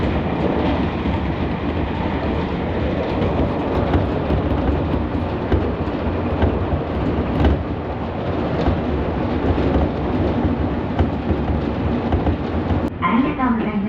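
Rapid-service train bound for Tsukuba running along the line, heard from inside as a steady, close rumble and rattle of wheels and carriage that holds without a break.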